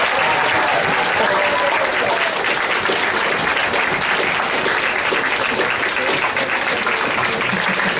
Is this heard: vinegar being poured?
no